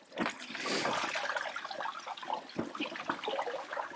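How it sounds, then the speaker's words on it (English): Water gushes and splashes as it is poured to refill a bucket for washing hash, a continuous close rush with a brief dip partway through before the pouring resumes. "I'm gonna go ahead and refill the water again."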